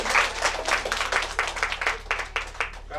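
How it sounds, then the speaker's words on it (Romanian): An audience claps to welcome a young pianist at a piano lessons recital in Navodari, with moderately loud, uneven applause of many hands pulsing steadily throughout, no speech over it. "Să o primim cu mare drag și cu aplauze pe Luiza Negaru,"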